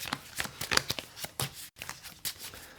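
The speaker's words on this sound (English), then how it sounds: "Okay, shuffle those while I draw my hand." Cards for the Aeon's End board game are shuffled by hand at a table, a quick series of close, crisp riffling and snapping bursts with a brief pause midway.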